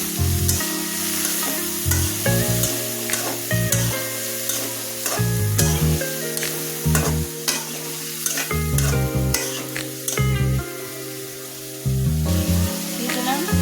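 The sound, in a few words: stir-frying amaranth stems in a pan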